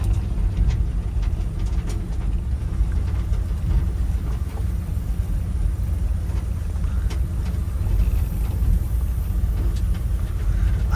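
An old, long-abandoned Ford F100 truck rolls along under way, its engine and drivetrain giving a steady, close low rumble with faint rattles and knocks while it works through the gears.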